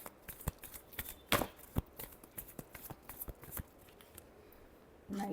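A deck of tarot cards being shuffled by hand for a final shuffle, with quick papery riffles and taps in uneven bursts, close and fairly quiet, ending on a louder rustle.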